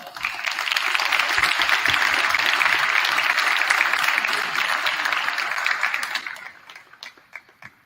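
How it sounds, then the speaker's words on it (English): A room of people applauds senior athletes at a school signing day, with dense clapping that holds strong for several seconds, then thins out into a few scattered claps. "let's give them a round of applause"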